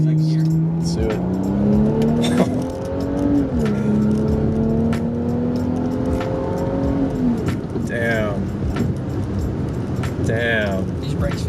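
A BMW 335i with N55 engine, M-Sport kit and full bolt-ons revs hard from a 30 mph roll and climbs through the gears, loud and close, with rising tones and brief shift dips, while people talk over it.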